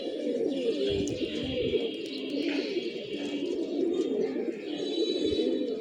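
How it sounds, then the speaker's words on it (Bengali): Pigeons on a rooftop cooing continuously in low, overlapping rolls, close and steady, with light chirps and faint background noise. "এই দেখেন কবুতরগুলা টাপটুপ করতেছে"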